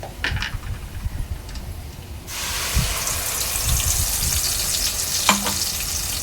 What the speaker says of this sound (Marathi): वाटण चांगलं तेलावर परतून घ्यायचं आहे।